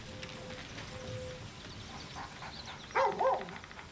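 A dog in a video game gives two quick, close barks near the end, after a stretch of quiet game ambience with faint tonal beeps.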